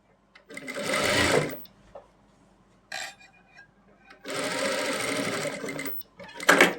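Two bursts of a sewing machine running fast as it stitches salwar fabric, each a dense close buzzing of a few seconds, separated by quieter handling noises and a short final burst.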